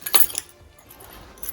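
Metal keys jangle briefly up close, a bright clinking burst at the start followed by a few faint rattles, with no talking.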